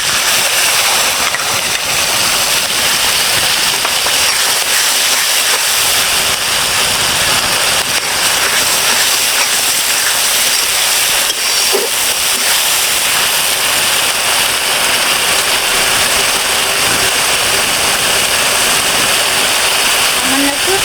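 Onion and garlic paste hits a hot pan for prawn malaikari, raising a loud, dense, continuous sizzle that stays steady and close, with a voice heard faintly beneath it.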